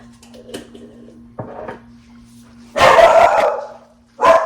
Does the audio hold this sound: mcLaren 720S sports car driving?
no